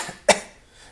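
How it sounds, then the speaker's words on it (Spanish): One short, sharp cough sounds close to the microphone in a quiet room, a single burst with nothing else following. "eso es exactamente que un tos es. Es un cough."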